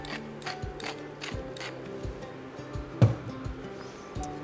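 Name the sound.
grinding black pepper into vegetable soup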